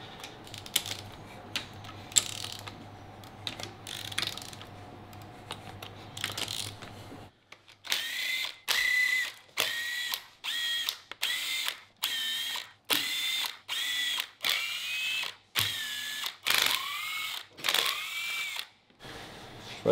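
A hand ratchet cranks in rapid clicking bursts, loosening bolts on a V10 car: about a dozen sharp, close ratcheting runs separated by brief pauses, following a stretch of quieter workshop background.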